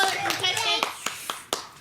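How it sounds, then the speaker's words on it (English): Audience clapping for child contestants at a kids' game show event, a scattering of sharp claps and taps mixed with children's voices and chatter, fairly close and moderate in level. "Let's give them a round of applause"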